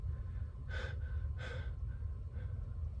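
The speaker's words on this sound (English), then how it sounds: "Gotta breathe again" A person takes a deep breath, two distinct airy inhalations close to the microphone with a fainter third near the end, over a steady low background hum.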